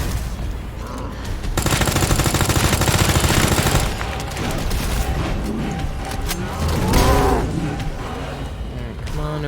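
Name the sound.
gunfire from a gun in video game Resident Evil 2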